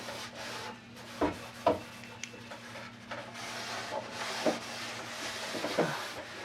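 Cloth rubbing orange-scented polish over wooden furniture in a newly moved-into house, a faint steady swishing with a few soft knocks and bumps, close by and alone.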